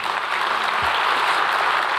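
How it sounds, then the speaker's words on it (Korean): Steady, dense applause from the audience at the opening ceremony of the 2025 Korea Local Era Expo, greeting the child hosts, with clapping sustained evenly throughout and no voices standing out. "다시 한번 박수 부탁드립니다"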